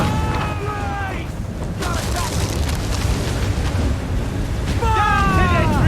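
Ship cannons boom in Assassin's Creed IV: Black Flag, a rumbling barrage of heavy blasts beneath shouted crew commands and whistling effects, with a sustained low roar throughout.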